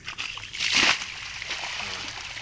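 Water splashes and sloshes over dug-up gold-bearing material from old diggings, a brief louder gush midway, then a steady trickle, close by.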